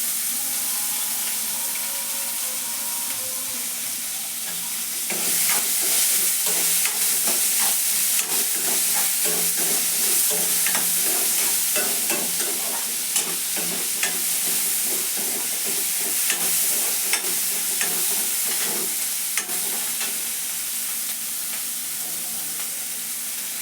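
Chopped onion frying in hot oil for tomato rice, a steady dense sizzle with crackling pops that swells louder after a few seconds and continues on its own, close to the pan.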